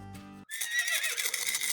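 A horse neighs in a loud, close, drawn-out whinny that starts abruptly after a brief low rumble and carries on alone to the end.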